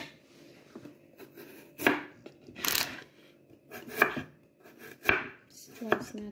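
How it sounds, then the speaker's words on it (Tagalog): Bread for a turkey sandwich is sliced with a knife on a board, giving several separate sawing strokes and thuds at uneven intervals, close and clear in a quiet kitchen. "Slice na ito para sa isa pa katinapay."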